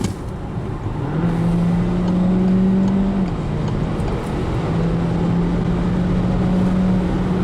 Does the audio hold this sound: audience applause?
no